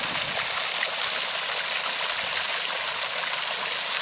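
Steady, broad rushing of water flowing into the channels of a wetland restoration system on a permaculture farm. The sound is continuous and fairly loud, with no pauses and no voices.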